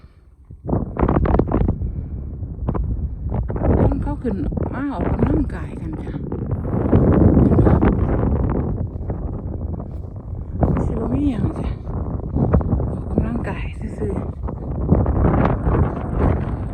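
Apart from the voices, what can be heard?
cool wind blowing on a hilltop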